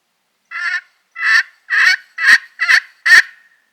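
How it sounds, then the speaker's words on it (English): A wild tom turkey gobbles loudly six times in a row in spring, evenly spaced bursts of rapid warbling, clear and close against silence. "we spooked this Tom once already, but he's gobbling again"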